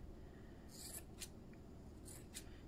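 Scissors snip around a fluffy yarn pom-pom, trimming it into a round shape, with a few faint, crisp cuts in short bursts over a steady low background hum.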